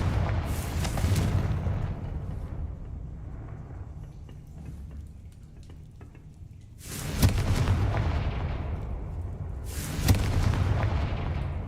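Blasting-spell explosions from the Hogwarts Legacy video game: three loud booming bursts, each with a sharp crack that rumbles away, the first decaying over several seconds and the later two coming close together.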